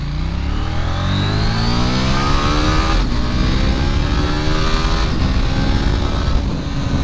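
A KTM Duke 890R motorcycle accelerates hard, its engine note climbing steadily through the revs, briefly dropping at two gear changes and then climbing again, loud and close with wind rush and no talk.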